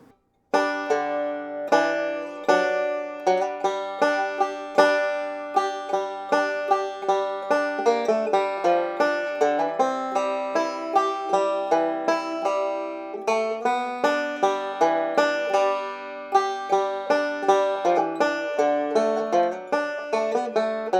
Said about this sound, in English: here's that entire first half of 9-pound hammer using these single string triplet licks